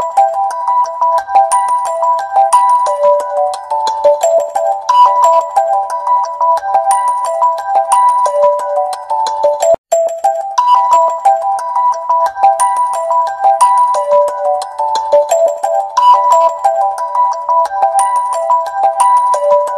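A morning alarm ringtone plays a loud, steady looping electronic melody for about twenty seconds, breaking off briefly in the middle before starting again.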